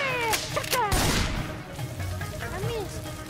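Cartoon gunfire in a chaotic SMG4 Mario animation, a burst of loud cracking shots near the start amid busy, cluttered sound effects and cartoon voices.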